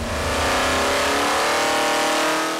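A small block Chevy V8 revs hard on an engine dyno, giving a loud, sustained, rising roar for a few seconds before easing slightly at the end.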